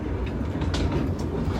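A tram rolls along the track with a continuous low rumble and faint clattering of wheels over rails, heard from onboard at close range, steady throughout with no talking.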